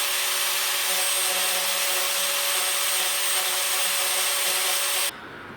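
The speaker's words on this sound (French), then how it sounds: "on sort la ponceuse, le disque de 80 pour la ponceuse, on va le dégommer" A sander fitted with an 80-grit disc grinds across fibreglass in one steady, loud, unbroken whine and rasp close by, then cuts off abruptly near the end.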